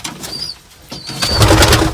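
Pigeons kept at home give soft cooing calls close by. Faint whistling tones and rustling or wing sounds grow louder toward the end.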